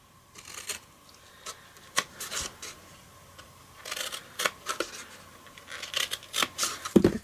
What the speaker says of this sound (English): you cut on either side of that score line